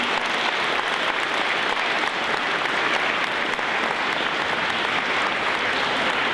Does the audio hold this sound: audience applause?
yes